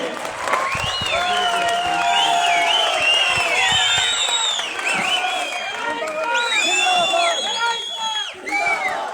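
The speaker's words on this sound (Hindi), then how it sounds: "मैं चाहता हूं कि आप सब लोग खड़े होकर इनके तालियों से इनका स्वागत करें।" An audience at an Aam Aadmi Party rally in Jammu and Kashmir stands and applauds to welcome guests: sustained clapping mixed with whoops, shouts and whistling cheers from the crowd.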